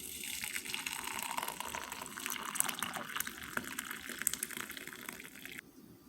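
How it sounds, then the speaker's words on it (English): Hot water pours into a cup of dried hibiscus, a close, bright trickling gush that runs steadily for several seconds before cutting off abruptly near the end. "I'm going to pour hot water so it can stay and brew."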